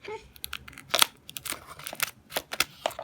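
Scissors cut open a plastic toy package, with crisp snips, crinkling and tearing of the wrapper heard up close at low volume in a quick irregular rhythm.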